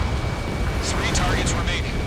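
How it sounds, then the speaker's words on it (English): Missile launch and explosion in the combat flight game Ace Combat 7, a loud continuous rumbling roar under jet noise, with talk over it throughout. "Missile away."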